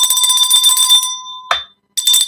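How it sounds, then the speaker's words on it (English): A bell rings loudly and sustains, then is struck again with a sharp clang that decays into silence, and ringing resumes near the end; close and clear, with no talking over it. "I hit this bell the last time."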